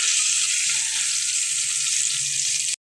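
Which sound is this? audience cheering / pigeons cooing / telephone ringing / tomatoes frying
tomatoes frying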